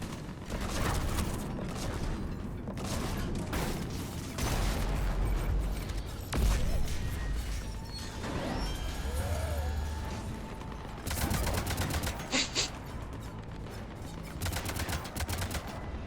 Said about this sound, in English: Хто, блядь, звідки стріляє?